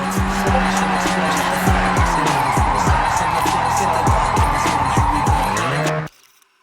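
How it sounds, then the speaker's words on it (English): Car drifting in the Forza Horizon 6 racing game, with a loud sustained engine roar and repeated rising and falling revs under continuous tire squeal and skidding, ending abruptly. "You want to build up as much speed as you can and just throw it into a drift."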